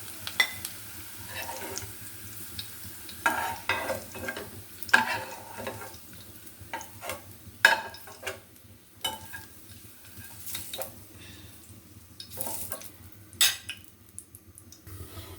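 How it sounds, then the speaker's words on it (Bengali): Onion and garlic frying in a pan for a sea-fish mash, with a soft sizzle underneath repeated scraping and clinking of a utensil stirring against the pan, close and intermittent, no talking. "পেঁয়াজ রসুন ভাজা হয়ে গেছে"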